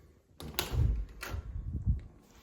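A door opening indoors at a dog's birthday party, with a few soft knocks and thumps of the door and handle over a couple of seconds, fairly quiet, with no talk.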